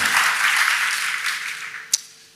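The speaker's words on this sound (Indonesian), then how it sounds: "Boleh tepuk tangan buat worship leaders, singers, dan para musicians." Applause from a church congregation for the worship leaders, singers and musicians after a service, a broad steady wash of clapping that thins out toward the end, with one sharp louder clap near the close.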